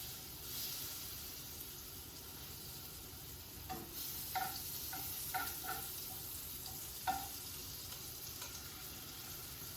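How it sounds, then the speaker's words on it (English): Patties sizzle quietly in a pan, a soft steady hiss broken by several light clinks and scrapes of a utensil. "let them sizzle on the stovetop until they're nice and firm on the bottom"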